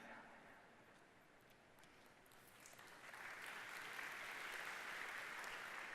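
A large conference audience at an ArcGIS Pro software presentation breaks into faint, distant applause, a steady wash of clapping that swells slightly midway and holds.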